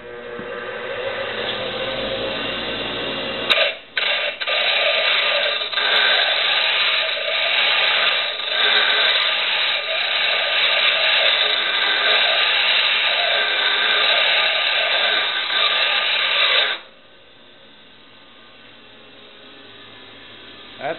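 Grinding wheel dresser pounding against a spinning grinder stone, a loud, harsh, steady rasping roar lasting about thirteen seconds that starts and stops abruptly, with softer machine hum before and after.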